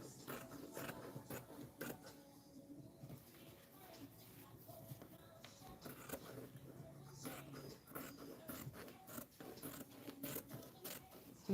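Faint, close scissor snips cut through fabric for scrunchies in an uneven sequence of soft crunching cuts, with quiet handling rustle and a low voice in the background.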